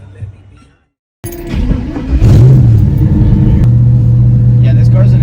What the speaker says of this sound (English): this car's an experience. It's got like a lot of bangs and rattles and shakes and everything, but she boogies